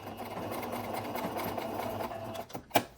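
A home sewing machine runs steadily for a couple of seconds, stitching a back stitch on a New Look 6737 garment, then slows and stops with a sharp mechanical clunk near the end, close and fairly quiet.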